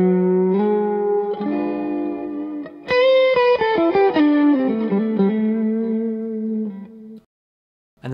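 Electric guitar notes played through a vibrato preset on a TheGigRig G3 switching system, a wavering sustained line that turns into a brighter run of picked notes before fading to silence, loud with no talking.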